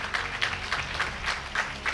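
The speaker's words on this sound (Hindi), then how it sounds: "जोरदार तालियां होनी चाहिए इनके लिए।" An audience at a motivational talk on the power of the mind claps, the applause falling into a steady rhythmic beat of repeated bursts at a moderate, fairly close level for the whole stretch.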